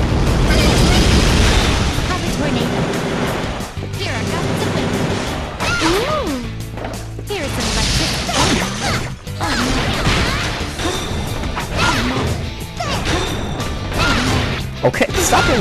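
Tornado wind attack in the fighting game Persona 4 Arena: loud rushing whooshes and crashing hits layered with game music and character voices throughout.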